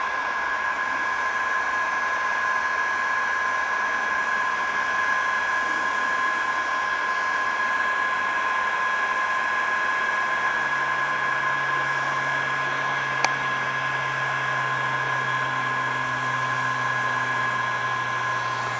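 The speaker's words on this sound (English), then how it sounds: "Maybe the heat gun needs to heat up a minute." Heat gun blowing hot air for stripping a guitar's finish roars in a constant, close, tonal rush, with one sharp click partway through and a low hum joining later.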